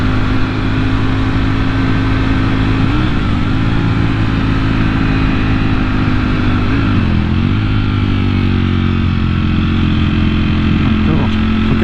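A motorcycle engine drones steadily and loudly throughout, pitch dipping and rising a couple of times as the rider shifts, with rushing wind noise over it.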